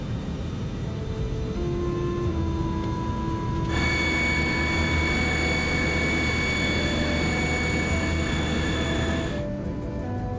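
A Comair jet airliner spools up for takeoff, a loud continuous engine roar with steady whining tones that rise into a brighter high whine midway and then drop back.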